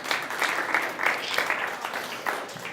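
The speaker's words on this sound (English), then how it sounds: "Round of applause for Lori." Audience applause for Lori at a body language show, a continuous, fairly even patter of many hands clapping at moderate loudness, with a few voices mixed in.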